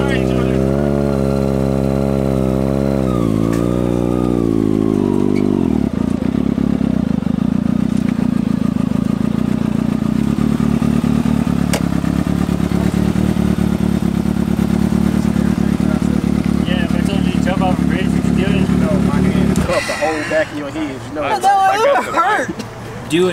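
A motorcycle engine runs loud and close, revving and shifting at first, then holding a steady drone on the road before breaking up into rougher bursts near the end, with people talking over it.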